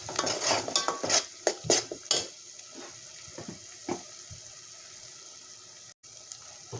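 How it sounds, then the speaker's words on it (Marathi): Ground masala paste being stirred and roasted in oil for a spicy sprouted-bean curry, with sharp spoon-against-pan clinks and scrapes early on, then quieter intermittent stirring over a low background hiss. "आता हा मसाला भाजून घेते तेल सुटेपर्यंत"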